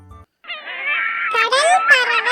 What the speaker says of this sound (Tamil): கடல் பறவை.